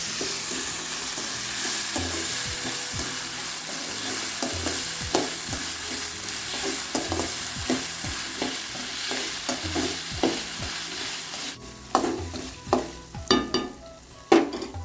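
Ginger and garlic sauté with mutton for Madurai-style mutton chukka, giving a steady sizzle under repeated spoon stirs that end in a few louder scrapes and knocks against the pan.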